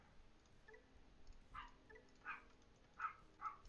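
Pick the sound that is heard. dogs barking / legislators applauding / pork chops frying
dogs barking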